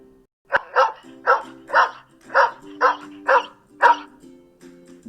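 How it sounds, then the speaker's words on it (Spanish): A dog barks in a steady series of about eight evenly spaced, moderately loud woofs, with a faint low hum underneath and no talking. "dog, perro."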